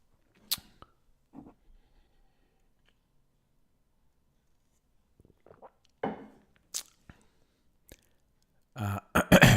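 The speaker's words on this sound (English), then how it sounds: "I have to keep clearing my throat." A man clears phlegm from his throat in several short, sharp bursts separated by long silences, the last ones louder and rougher.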